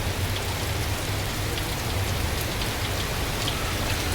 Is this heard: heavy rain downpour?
yes